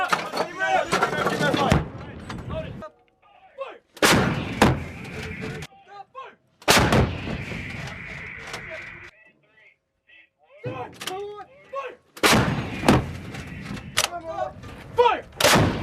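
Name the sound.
U.S. Marines artillery firing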